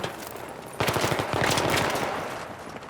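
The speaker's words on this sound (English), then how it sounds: "Big explosions." Heavy gunfire and explosions in a Battlefield 5v5 competitive match on the Seine map, a sudden loud burst of rapid machine-gun fire followed by booming blasts that stay dense and close for the rest of the clip.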